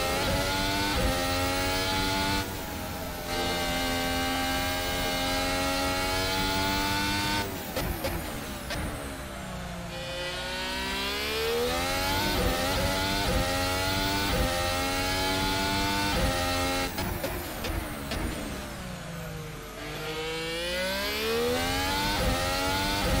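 A Formula 1 car engine lapping the Bahrain Grand Prix circuit in a racing video game, a loud continuous high-pitched whine that rises through the gears, drops on gearshifts and braking, and builds again under acceleration.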